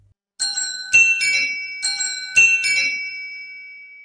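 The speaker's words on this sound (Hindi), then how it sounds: "तभी दरवाजे पर जोर से घंटी बजती है।" A doorbell chimes in clear two-tone bursts, two rings spaced about a second and a half apart, each ding-dong ringing out and fading into silence.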